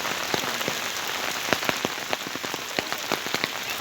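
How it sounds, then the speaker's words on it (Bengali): A downpour drums on surfaces in Sylhet at the start of Boishakh, a constant close wash of rain punctuated by sharp, individual drop hits and splats, with no talking. "অঝরে বৃষ্টি পড়ছে"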